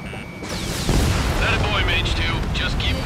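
Rapid gunfire and a booming roar from the jet combat game Ace Combat 7 rumble continuously for about three seconds, loud and dense, with radio chatter and other voices over it.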